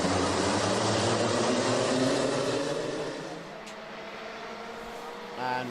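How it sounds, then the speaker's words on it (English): Race car engines roar at a race start, a loud dense blare that holds steady, then fades and thins as the cars pull away, with a commentator talking over it. "So, revs up, lights are on."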